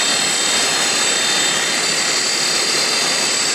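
Grizzly G0704 CNC mill spindle spinning at over 5,000 RPM on a serpentine belt and pulleys, a loud, steady high-pitched whine with dense broadband rush that holds constant throughout, no voices.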